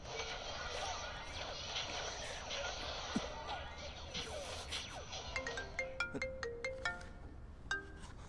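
A telephone ringtone plays a rising run of bright electronic notes, then short repeated melodic beeps, heard under room noise and a voice in a Chinese drama scene.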